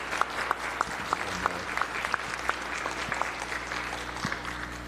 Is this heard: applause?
yes